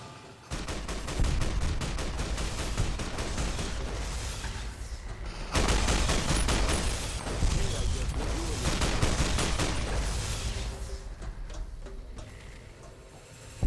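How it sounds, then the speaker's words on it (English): Raul, a companion in Fallout New Vegas, fires a gun in rapid sustained bursts, a dense loud clatter of shots that briefly cuts out and resumes before fading. "I'll let my buddy Rawl do the shooting"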